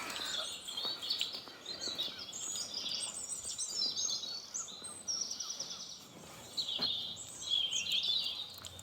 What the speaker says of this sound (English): You can hear all the birds singing down here now we're out the wind